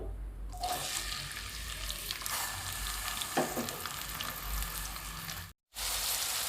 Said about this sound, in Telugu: ఆయిల్ హీట్ అయ్యాక అందులో లవంగా ఇలాచి సాచీర ఇవి వేసేసుకోవాలండి